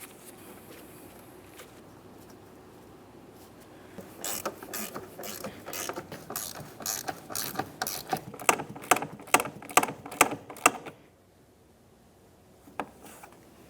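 Rapid clicking bursts from a hand ratchet snugging blower motor mounting bolts on a 2003-2011 Mercury Grand Marquis, a quiet scrape at first, then a run of sharp, evenly spaced clicks that stops abruptly, with one last click after a pause.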